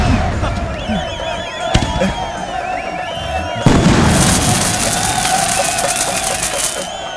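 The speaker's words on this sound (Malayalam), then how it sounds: "വെടിക്കെട്ടൊക്കെ മതി" Loud booms and crackling bursts of fireworks go off nearby over a constant roar of a large crowd.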